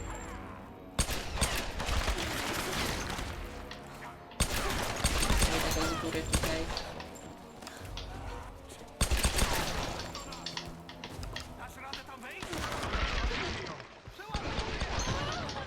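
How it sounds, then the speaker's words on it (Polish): Repeated loud gunfire bursts from pistols in the video game Tomb Raider 2013, dense cracking shots layered over background music and game effects, with a short pause near the start. "skończyła mi się amunicja w tym karabinie maszynowym, no ale poradzimy sobie pistoletami"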